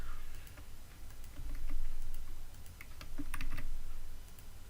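Details get typed on a computer keyboard, a run of light, scattered key clicks over a steady low hum of background noise, with no talking.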